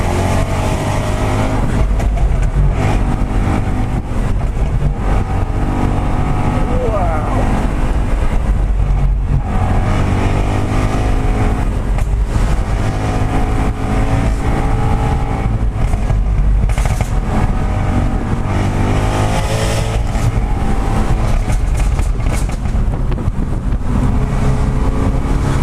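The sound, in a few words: Jaguar F-Type engine revving while driving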